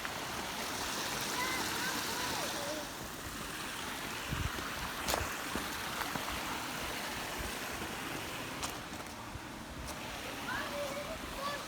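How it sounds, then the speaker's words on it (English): Running water where two creeks join on a hike makes a constant broadband rush and gurgle, steady and fairly close, with a few faint clicks and handling noises over it. "It's the running water."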